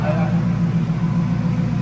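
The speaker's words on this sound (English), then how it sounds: "it's higher RPM till it warms up. And it Yeah. sounded sweet just idling." A 2014 Ford Mustang GT V8 idles at slightly raised revs just after a cold start, a steady low, throbbing rumble close by, with people talking over it.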